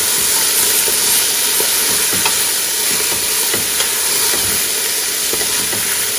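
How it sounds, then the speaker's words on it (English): Callaloo soup ingredients sauté in a pot with a loud, steady hiss and sizzle, broken by faint stirring scrapes, with no voices. "let it saute for a few."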